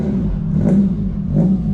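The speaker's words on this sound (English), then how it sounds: "just moving his car out the way" A car engine idles and revs gently nearby at a dyno workshop as the car is moved out of the way, a low steady hum that swells slightly twice.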